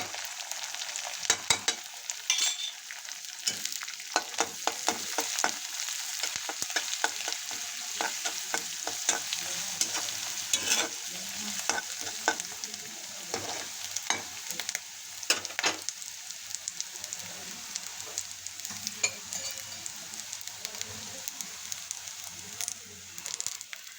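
Curry leaves and crushed garlic sizzle and crackle in hot tempering oil for Maharashtrian pithala, with steady frying hiss punctuated by sharp pops and spatters close by, no voice.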